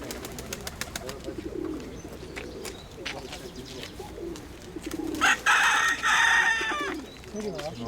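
Pigeons coo in low, soft bursts among other birds at a pigeon and bird fair, with a loud rooster crow breaking in near the end and people talking faintly in the background.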